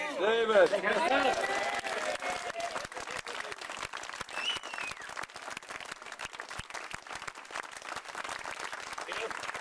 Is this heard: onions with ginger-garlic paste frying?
no